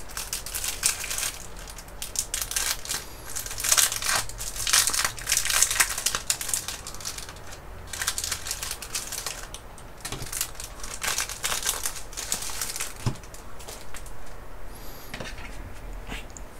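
A sticker pack from a Far Cry 6 collector's edition being handled, with close, continuous crinkling and rustling of plastic packaging in bursts, no talk.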